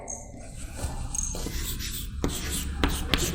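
Chalk or marker scratching across a classroom board as a physics formula goes up, close-miked, with a steady scraping texture and a few sharp taps near the end.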